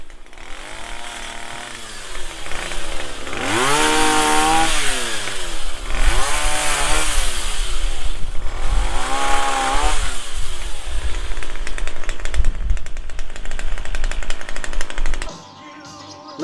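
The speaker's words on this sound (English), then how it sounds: "Good fun with my little chainsaw." A small chainsaw cuts up a tree into firewood, its loud engine revving up and down in repeated surges close by for most of the stretch, then cutting off abruptly near the end.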